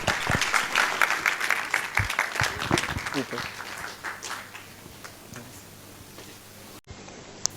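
An audience at a talk on a family tour of Ladakh gives a round of applause to welcome the first speaker. The clapping is strong at first and tapers off, with some voices underneath.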